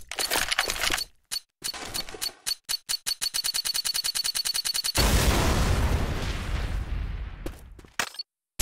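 Pipe bomb in Left 4 Dead 2 beeping in a rapid, accelerating run of short pulses before a loud, sustained blast with a long rumbling roar that fades out.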